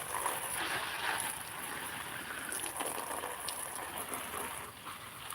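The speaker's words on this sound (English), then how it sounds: "We have to water these plants." Water splashes and patters steadily onto garden plants during early-morning watering, a continuous close wash of droplets with no talk.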